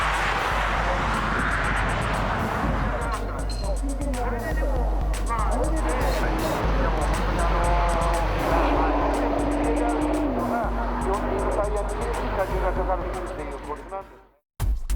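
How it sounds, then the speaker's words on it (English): A Nissan R35 GT-R lapping Fuji Speedway in a performance demonstration, its engine note rising and falling through gear changes amid track ambience and a narrator's voice, ending in an abrupt cut. "the GT-R was put through its paces around Fuji Speedway for a performance demonstration"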